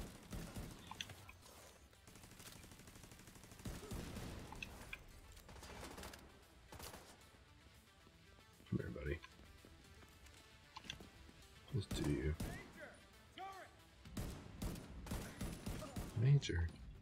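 Turret gunfire in the shooter The Division 2, bursts of rapid shots and thumps coming and going against game noise, with a voice talking over parts of it.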